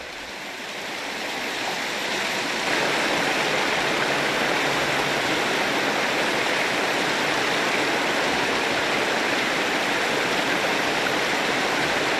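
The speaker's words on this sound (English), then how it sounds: "a mountain stream is a welcome opportunity for Hideki to enjoy some of Tasmania's famou" A mountain stream in Tasmania rushes steadily over rocks, a dense, even wash of flowing water that builds in the first seconds and then holds at a constant, full level, with no voices.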